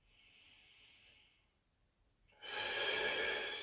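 Slow, deep breaths taken during a full-body static stretching routine, a soft, airy exhale followed by a louder, closer, noisy breath, with no talking.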